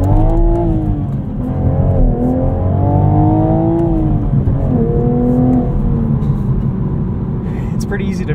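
A 2023 Toyota GR Supra 3.0 with a manual gearbox accelerates hard, its engine note climbing loudly and dropping at a gear shift before rising again, with people talking over it in the cabin.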